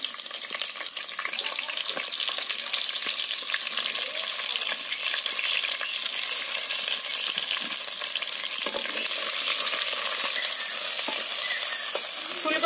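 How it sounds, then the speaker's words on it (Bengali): Washed, cut cauliflower florets frying in oil in a pan with a steady, dense sizzle, joined now and then by faint stirring scrapes and clinks throughout. "এবার আমি এই ফুলকপিগুলো ভেজে নেব।"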